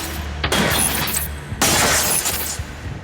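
Glass in a taxi's locked driver's-door window being smashed, two loud shattering crashes about a second apart, each followed by a crackling spray of breaking fragments.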